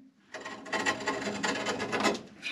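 Metal immersion heater element rasping and scraping against the inside bottom of a domestic hot water tank as it is turned, a close, continuous gritty rubbing that lasts about two seconds.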